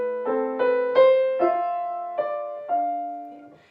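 Piano playing the A section of a piece, a slow, quiet phrase of separate notes struck about every half second and left ringing as they fade, with no talking.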